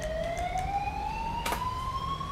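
An ambulance siren in GTA 5 with the LSPDFR police mod approaches, a steady, clear wailing tone gliding slowly upward over a low traffic rumble, with one brief crackling burst partway through.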